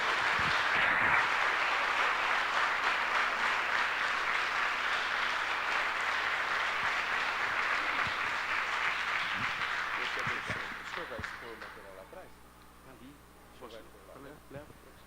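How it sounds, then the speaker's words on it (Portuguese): A church congregation at a Brazilian Baptist worship service applauds in a loud, dense wash of clapping that runs about ten seconds before fading away, leaving a few scattered claps and murmuring voices. "Vamos dar um aplauso ao Senhor,"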